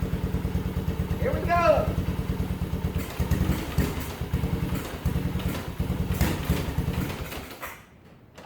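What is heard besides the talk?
homemade side-by-side engine revving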